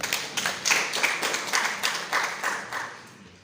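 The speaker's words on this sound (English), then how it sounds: "Let's clap for ourselves." Audience applause at a medical laboratory professionals' Lab Week event, a steady burst of many hands clapping close by for about three seconds, thinning toward the end.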